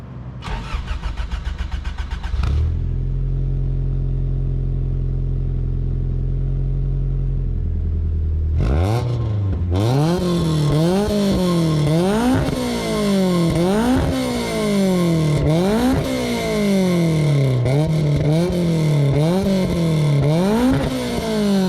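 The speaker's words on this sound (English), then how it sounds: "let's get some exhaust sounds" Car engine, a Toad School RA Evilution, idles with a deep low rumble, cuts off briefly, then is restarted and revved repeatedly in rising and falling sweeps, loud and close with no talking.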